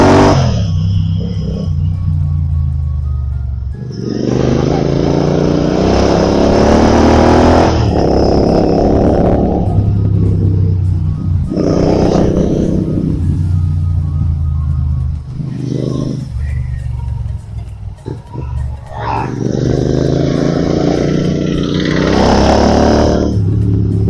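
A GT 650 motorcycle accelerates hard in repeated bursts, engine revs climbing through the gears with pauses at gear shifts, loud and close on an open road.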